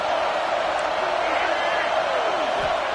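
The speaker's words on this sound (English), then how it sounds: "The Buckeye crowd alive on 3rd down" A large college football stadium crowd of Buckeye fans roars on third down, a continuous loud wall of cheering and noise under a commentator's voice.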